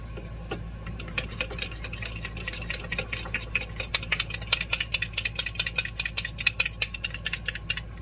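A fork stirs truffle aioli in a bowl, giving a steady run of quick, light metallic clinks and scrapes that quicken and grow louder toward the end, close and clear with no talking.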